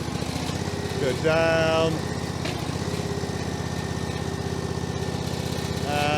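A Westermann ride-on brush's engine runs steadily at close range, rising briefly in a short rev with a whining tone before settling back, while a voice speaks over it.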